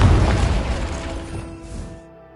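A Confringo spell explosion in Hogwarts Legacy: one loud, close booming blast that rolls off and decays over about two seconds into quiet.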